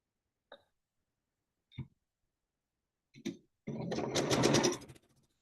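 A sewing machine chain-sews quilt pieces: a few isolated clicks come first, then about a second of dense, fast stitching up close before it stops.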